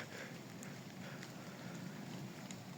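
Light rain falling in an evening forest during mushroom picking, a soft, steady patter and hiss with a few slightly louder drops, faint and continuous with no voices.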